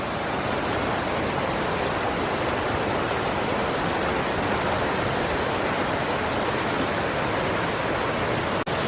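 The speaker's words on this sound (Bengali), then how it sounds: "আর এইভাবে জল এই দেখুন বয়ে চলেছে" Water pouring over rocks at Sitakunda waterfall, a steady, loud, broadband rush that holds constant throughout without pause.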